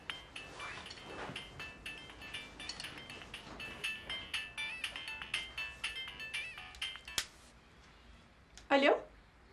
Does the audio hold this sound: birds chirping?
no